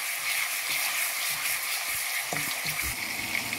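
Korma sizzles steadily in a hot frying pan while being stirred, with continuous close frying crackle and occasional scrapes and clinks of the spoon against the pan.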